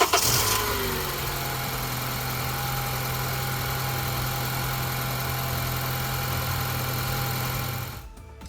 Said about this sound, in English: Let's see if this car will actually start.